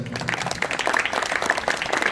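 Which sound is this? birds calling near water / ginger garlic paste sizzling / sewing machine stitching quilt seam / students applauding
students applauding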